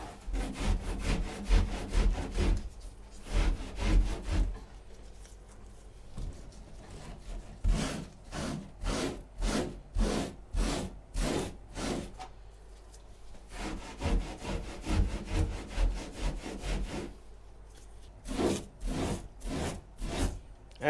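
A Scotch-Brite pad scrubs contact glue residue off a boat surface in bursts of fast back-and-forth rubbing, loud and close, with short pauses between rapid strokes and no talking.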